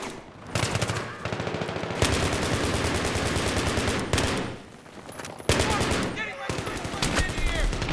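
Sustained machine gun fire in a video game rattles loudly in long, dense bursts with a few short breaks, close and dominant.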